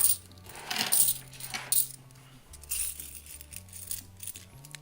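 Canadian loon dollar coins from coin rolls clink and jingle as they are handled, with a quick run of metallic taps and rattles, then scattered lighter clinks close by.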